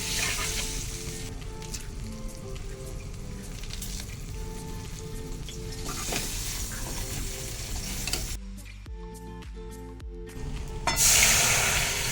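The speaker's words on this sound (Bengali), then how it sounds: "এরপর আমি বেগুনি ভাজছি" Beguni, battered eggplant fritters, frying in hot oil, with a loud, continuous close sizzle and crackle, occasional stirring, and a brief bright hiss near the end.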